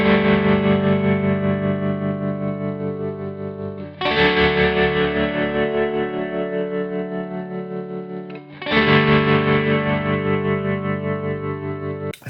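Distorted electric guitars in a mix, left nearly unprocessed apart from a high-pass filter and a tiny EQ cut, sound out three long, sustained strummed chords, each ringing for about four seconds before the next hit, loud and full without any voices.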